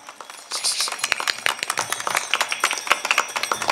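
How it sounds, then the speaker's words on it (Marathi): At a Marathi kirtan for Akshaya Tritiya, an audience breaks into loud, rapid hand clapping after a brief quiet start, dense and irregular claps continuing to the end. "टाळी वाजवा टाळी वाजवा टाळी जोरात जोरात"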